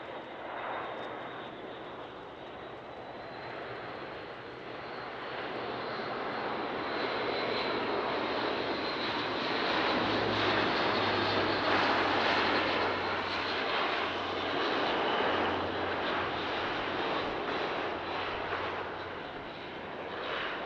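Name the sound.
Airbus A400M aircraft low-speed pass, flaps and gear extended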